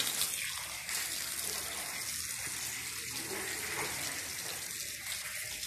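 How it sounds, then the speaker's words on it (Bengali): Fish washed under a running outdoor tap: a steady, close gush of water pouring continuously with faint splashing changes as hands move, no talk. "যাই তাহলে মাছগুলো ধুয়ে নিই।"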